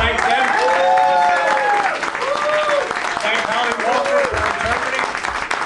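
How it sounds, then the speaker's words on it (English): Sustained applause from the crowd at a 2011 Philadelphia sheriff campaign press conference as the speakers stand, with a voice calling out over the clapping throughout. "give them a round of applause and thank them"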